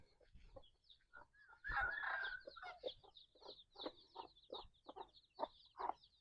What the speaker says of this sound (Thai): ไก่เม่ลูกอ่อนนี่ก็มีพี่น้อง